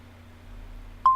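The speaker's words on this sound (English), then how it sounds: "One noise will determine whether or not you found Kethane" Kethane resource detector in a video game gives a single short electronic beep near the end, loud and clean over a low steady hum.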